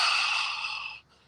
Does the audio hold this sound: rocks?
no